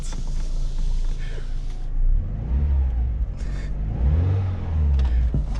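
A 1993 VW Polo 1.0i with a 45 hp engine revs up in repeated rising surges, heard loud and close from inside the car on a test drive, with no talk.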